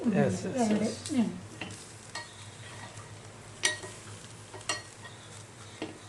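Rice and flattened-rice dosa frying in ghee on a hot pan, a steady sizzle broken by a few sharp scraping and tapping clicks of a spatula; a voice talks briefly at the start.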